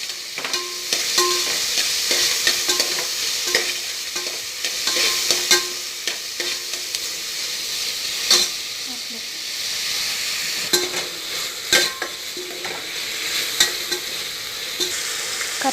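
Curry leaves sizzling hard in hot oil in a frying pan for mushroom biryani, with a steady bright hiss broken by repeated scraping stirs, close and loud.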